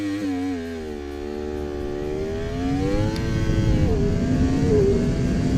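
A Yamaha YZF-R1 motorcycle engine is held at high revs around 10,000 rpm for a launch-control start, a loud sustained whine that wavers and climbs, over rumbling road noise.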